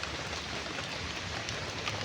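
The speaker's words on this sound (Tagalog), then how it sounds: "Umulan pa rin pero kaunti na lang." Light rain falls steadily outdoors as a soft, even hiss of drops, faint and continuous without any talking.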